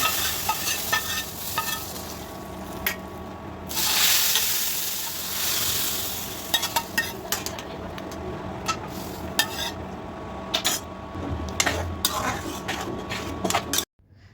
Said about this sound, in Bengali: রসুন কুচি পেঁয়াজ কুচি শুকনা মরিচ আর জিরা দিয়ে ফোড়ন দিব তো ভাজা হয়ে গেছে এখন আমি দিয়ে দিচ্ছি দেখুন